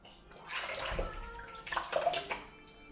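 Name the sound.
homemade nut milk poured from bag into bowl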